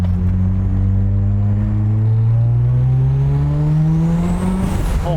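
Mazda RX-3 with a swapped 13b rotary engine making over 500hp, idling loud and close with a rough, steady drone that rises slightly in pitch near the end, with no talk over it.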